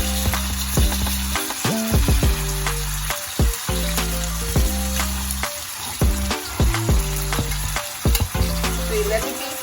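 Steak sizzling loudly in a hot pan on a home stove, a continuous close frying hiss with intermittent stirring knocks and a low humming tone underneath.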